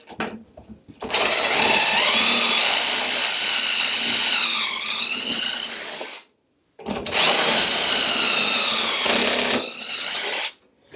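Power drill boring pocket holes through wood boards with a pocket jig, two long high-pitched whining bursts with pitch dips as the bit bites, separated by a brief silence, loud and close.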